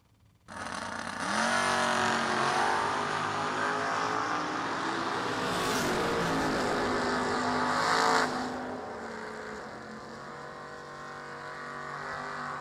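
Drag race launch of a Chevrolet Vega and a Camaro at a vintage drag strip: a loud, sudden engine roar starts near half a second and holds steady as the cars accelerate, then drops at about eight seconds into a quieter, lingering rumble.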